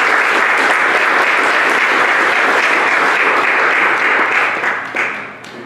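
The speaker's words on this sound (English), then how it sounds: "Give the rounds of applause for these two our catechists." A church congregation breaks into sustained applause at the end of a Sunday Mass, a dense, steady wash of many hands clapping that fades slightly toward the end.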